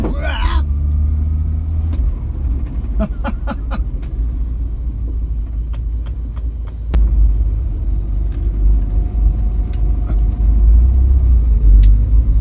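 An old barn-find Vauxhall Viva under restoration, with a carburettor in need of adjustment, drives along with a steady low engine and road rumble inside the car, marked by sharp clunks and rattles and a jolt as it crosses a speed bump.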